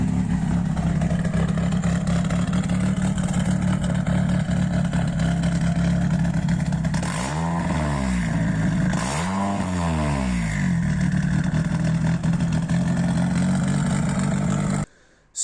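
A twin cam car engine rumbles at a steady idle, then revs twice in quick succession around the middle, each rev sweeping up and falling back, before settling into idle again. The sound is loud and close, with no voices.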